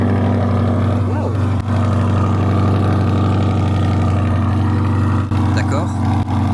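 A Corvette C8 engine idles with a deep, steady exhaust rumble, loud and close, while a person talks over it.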